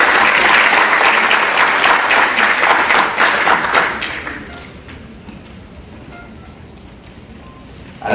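At an academic conference, an audience breaks into loud, dense applause that holds for about four seconds, then fades to scattered claps and room murmur.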